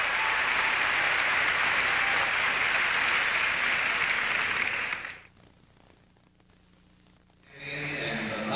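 A packed arena crowd at a figure skating championship gives a standing ovation, dense sustained clapping for about five seconds that cuts off abruptly into near silence before swelling again at the end.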